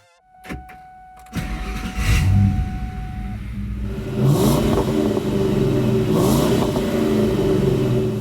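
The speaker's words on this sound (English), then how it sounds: "I get that all the vrooming is very important to Mustang owners" A Ford Mustang engine revs loudly and steadily, its low rumble swelling in surges over several seconds after a brief quiet start.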